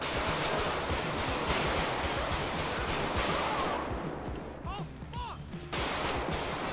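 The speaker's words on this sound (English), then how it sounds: "I got shots fired." Gunfire in the game GTA 5 during a police call, a dense rapid burst of loud shots crowding the first few seconds, then fading into softer noise with a few scattered reports.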